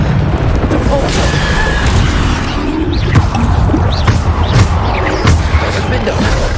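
Depulso spell blasts in the Hogwarts Legacy video game sound as dense booming whooshes and crashes in a loud, constant wash of battle effects, with a voice shouting spell names over them.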